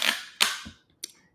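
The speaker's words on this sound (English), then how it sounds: "That noise is because I have the sticky thing on the back of my phone." A sticky grip on the back of a phone peels and snaps as the phone is handled: three quick, sharp crackling clicks, close and fairly faint, with no talking.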